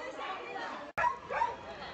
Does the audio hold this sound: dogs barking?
yes